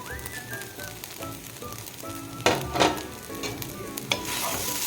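Salted garlic idli upma being stirred in a pan, a soft sizzle under repeated scraping and tossing strokes, with a couple of louder scrapes midway.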